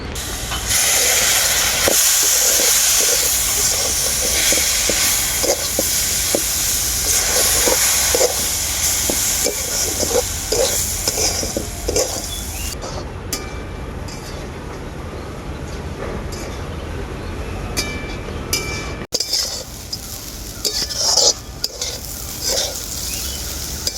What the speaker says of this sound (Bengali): অল্প অল্প করে জল দিয়ে এটা ভাজতে থাকবেন